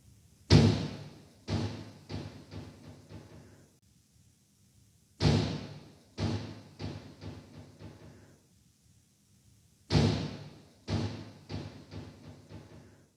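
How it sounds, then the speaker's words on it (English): A door slamming shut with force at the far end of a hallway, heavy thuds arriving in three clusters of sharp bangs, each followed by quieter rattling knocks that die away into silence. "a door at the far end suddenly slams shut with force"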